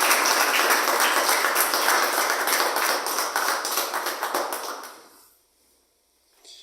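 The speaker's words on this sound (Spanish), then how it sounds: "Dale un fuerte aplauso a la presencia de Dios." A church congregation breaks into loud, dense applause for about five seconds, then it fades quickly to near silence, with a faint sound returning at the end.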